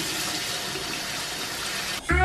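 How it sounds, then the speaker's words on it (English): A water tap runs steadily into a sink for hand washing, a close, even broadband rush that is cut off near the end by a louder splash or change in the flow. "Can you turn on the water for me?"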